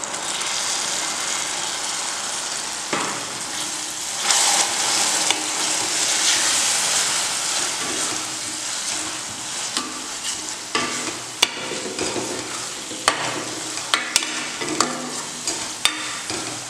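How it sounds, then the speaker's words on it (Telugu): Egg curry masala stirred in a frying pan, a steady loud sizzle with repeated scraping and clinking of the spoon against the pan, close and with no talk. "రెండు నిమిషాలు ఇలా కలుపుతూ వేసుకోవాలి"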